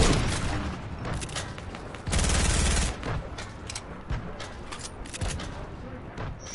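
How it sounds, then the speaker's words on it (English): Video game airstrike with explosions and gunfire: a continuous barrage of rapid shots and blasts, with a loud sustained burst near the middle, dense and fairly close throughout. "Airstrike!"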